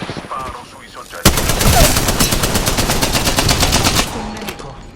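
After a quiet moment, a loud burst of rapid automatic gunfire in the video game Apex Legends rattles for about three seconds, then stops, with faint voices around it.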